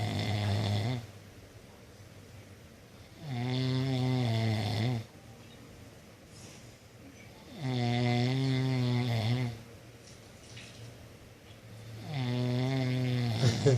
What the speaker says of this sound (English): you will not stop snoring.